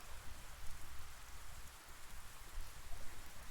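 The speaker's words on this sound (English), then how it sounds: "The rain won't let up." Steady rain falling in the video game 428 Shibuya Scramble, a dense continuous patter on surfaces, close and even throughout with no voices.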